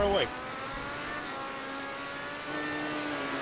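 Race cars in a racing video game pull away together at a restart after a safety car, a short rising engine sweep settling into a steady droning whine, joined by a second engine note near the end, with commentary over it.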